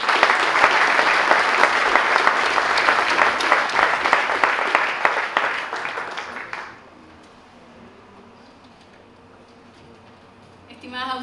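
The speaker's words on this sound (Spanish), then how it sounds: "María José Núñez, subdirectora de INDAP, para quien pido un aplauso." Ceremony audience at a wine awards event applauds an official coming to the stage, loud steady clapping for about seven seconds that ends abruptly, followed by quiet room tone and then a speaker starting to talk.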